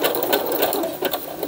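Sewing machine stitching through paper scraps, a fast steady mechanical chatter of needle strokes running close and continuous throughout.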